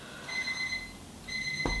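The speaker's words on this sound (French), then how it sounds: "Excusez-moi, c'est mon minuteur" Kitchen timer in a home kitchen ringing with a steady electronic beeping tone in two bursts separated by a short gap, moderately quiet, with no speech.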